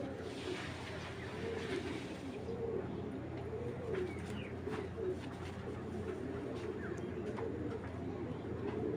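A racer pigeon coos softly in a loft, its low repeated calls running steadily under a constant background hum, with faint chirps and occasional brief voices nearby.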